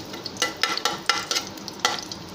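Cinnamon, cloves and cardamom fry in hot oil in a pressure cooker for prawn biryani, making a close, steady sizzle broken by several sharp crackling pops.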